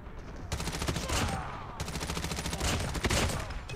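Rapid automatic gunfire in Call of Duty Mobile rattles in two long, loud bursts separated by a short pause, close and dense, with a player's voice faintly beneath.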